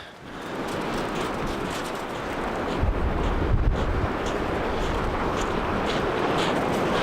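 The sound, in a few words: wind at the beach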